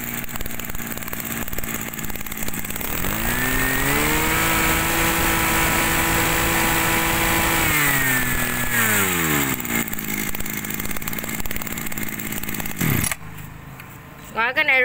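A Robin 253 brush cutter engine runs loud and close, revving up to a high, steady whine and then dropping back before cutting off abruptly near the end, leaving quiet background.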